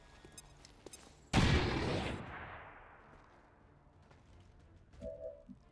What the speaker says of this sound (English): We're gonna have to frag this guy, unfortunately.